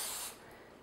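Cooking spray hissing onto a spatula over a medium saucepan, one short close burst that stops abruptly, followed by quiet room tone.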